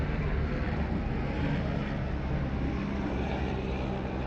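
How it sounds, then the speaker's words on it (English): A low, rumbling drone of helicopters passing overhead at a distance fills the background steadily, with no speech. "Apparently we got helicopters flying over."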